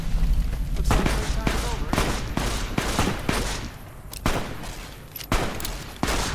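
Rapid gunfire bursts crackle repeatedly in the video game Fallout 76, loud and close, in dense volleys with brief gaps between them.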